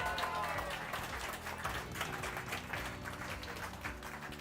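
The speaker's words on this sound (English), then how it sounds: "let's give a round of applause" An audience at a company award presentation applauds a winner with steady, dense clapping that sounds fairly distant and soft, with a low tonal hum running underneath.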